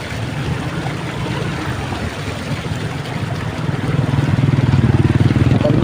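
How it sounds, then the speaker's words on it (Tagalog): Motorcycles riding back and forth through flood water on a submerged road, a continuous engine rumble with splashing and rushing water that grows louder and closer in the second half. "mga motor"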